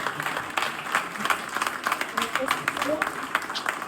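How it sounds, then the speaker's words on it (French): Audience applause at an annual champions award ceremony: scattered, moderately faint clapping running throughout, with voices audible beneath it. "On peut l'applaudir, je crois."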